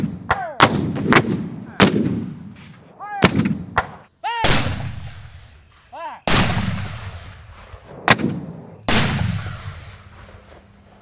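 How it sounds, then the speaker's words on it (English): Heavy cannon blasts boom out one after another, about five loud, sharp reports with rumbling tails, some spaced by short pauses. "How about cannons? Yeah, everyone likes cannons."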